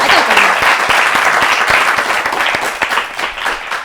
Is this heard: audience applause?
yes